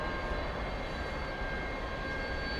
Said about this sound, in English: That is Delta 496 coming in from JFK Airport in New York,